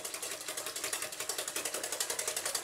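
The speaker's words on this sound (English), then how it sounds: "And now we are going to whisk everything together." A whisk beats potato salad ingredients together in a bowl, a fast, steady run of light rhythmic clicks and scrapes repeating several times a second, close and moderately loud with no talk.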